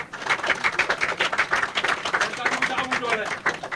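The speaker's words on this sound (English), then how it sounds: "big round of applause" An audience at an International Women's Day conference applauds the Minister of Gender with brisk, uneven clapping from a crowd, fairly close, and faint voices mingle in.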